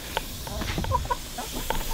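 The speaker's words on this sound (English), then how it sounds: "We got chickens, right?" Backyard chickens kept for eggs on a small homestead, several hens clucking in short, irregular bursts, close and clear, with no talk over them.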